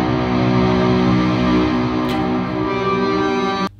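Electric guitar played through a Kraken pedal into an IR, with El Capistan and Z-cap reverbs stacked on a bus, a loud sustained distorted chord ringing with wash, then cut off abruptly near the end.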